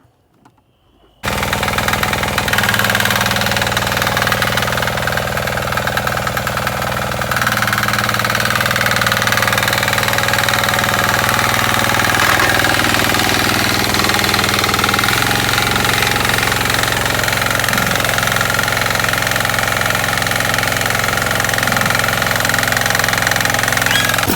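A heavy tractor engine runs steadily and loud after a brief quiet start, a continuous low rumble with a rough mechanical clatter throughout, during potato harvesting.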